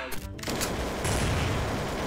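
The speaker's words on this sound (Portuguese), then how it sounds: "Que tiro foi esse, mano?" Rapid gunfire fills a Counter-Strike: Source match, a dense, loud burst of shots that starts sharply after a brief lead-in and keeps rattling without pause.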